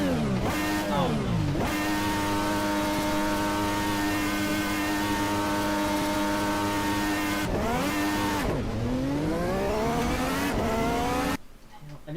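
Race car engines in Assetto Corsa during a 20-lap mock race, a loud, close whine rising and falling through gear changes and long revving pulls, ending abruptly in near silence.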